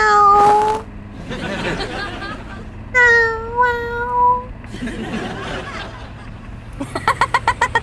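A voice imitates a cat, giving several drawn-out meows between stretches of quieter talk, ending in a quick run of chuckling.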